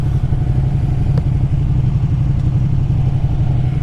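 A Ducati Panigale 959 sport motorcycle engine rumbles steadily at low RPM, a close, continuous, slightly uneven idle-range drone.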